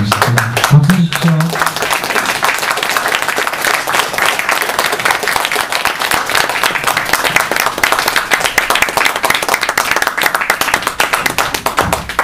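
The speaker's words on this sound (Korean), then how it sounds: "박수 주십시오." An audience claps to welcome a poet and culture critic onstage at a Korean event, loud continuous applause running steadily throughout, with a brief low murmur at the very start.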